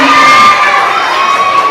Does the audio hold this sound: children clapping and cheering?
yes